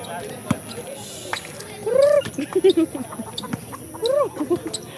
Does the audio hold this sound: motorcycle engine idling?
no